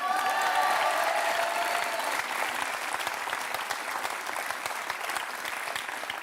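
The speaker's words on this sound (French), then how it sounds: "On est hyper contents, on peut les applaudir." Audience applause on a French TV show, hearty and sustained throughout with a crowd clapping densely at steady loudness, some cheering or voices blended in early on.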